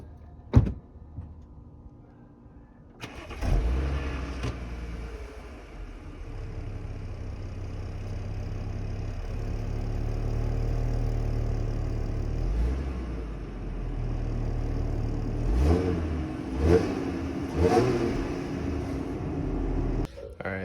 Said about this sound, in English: I'm gonna move my car into the driveway